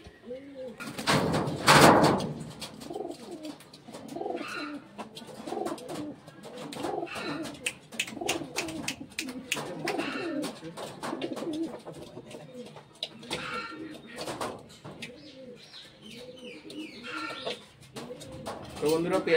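Andhra pigeons in a loft coo repeatedly, and a loud burst early on could be wings flapping. A person talks intermittently throughout, and the birds keep up a busy, close mix of coos and movement.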